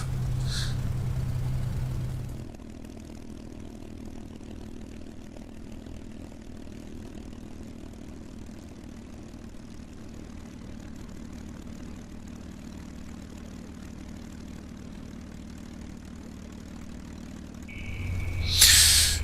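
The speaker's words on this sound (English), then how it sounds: "And we are all set to go for a nice takeoff" A P-51D Mustang in a flight simulator game rolls out for takeoff from Shoreham Airport, its propeller engine droning steadily and loud throughout, with a sharper burst at the start and a rising surge near the end.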